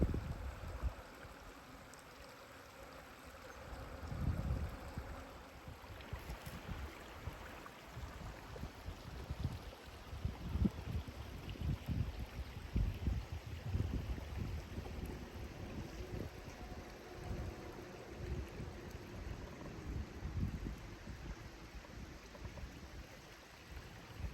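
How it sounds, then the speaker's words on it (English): A canoe crosses the Kennebec River on the Appalachian Trail, with irregular splashing paddle strokes and water sloshing against the hull, all under constant wind buffeting the microphone. "Crossing the Kennebec River on a canoe."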